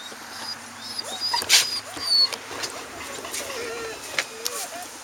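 Small dog on a leash whimpering and whining in high-pitched bursts, close by, with people talking over it and some background noise.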